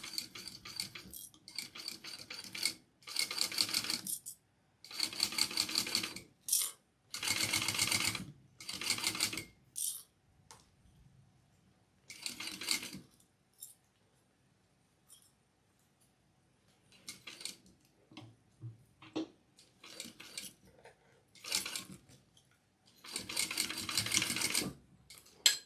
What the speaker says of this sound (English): I am sewing this part on, Natalie, at a 1/4 inch.